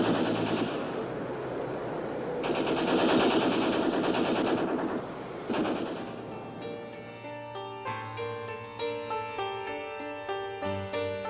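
Gunfire during a street uprising: a roaring burst of dense automatic fire fades, then a series of sharp, rhythmic single shots cracks at a steady pace, loud and unaccompanied by voices.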